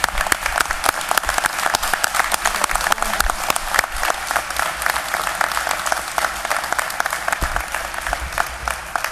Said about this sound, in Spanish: Así que pido un fuerte aplauso para ellos